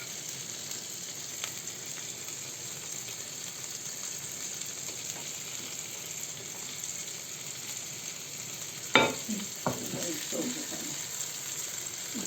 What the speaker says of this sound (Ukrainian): у муку і смажимо